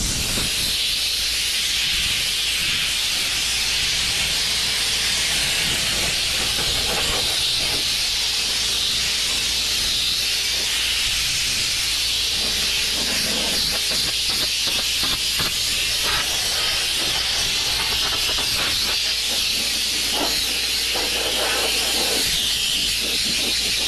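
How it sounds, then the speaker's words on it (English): A compressed-air nozzle sprays dust off a Crown Victoria being prepped for paint, giving a loud, steady hiss close by that runs unbroken for the whole stretch, with no talking. "we're just making sure that we spray as much off of the car as we can"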